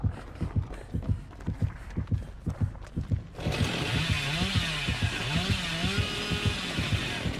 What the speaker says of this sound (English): he ends up eating a chainsaw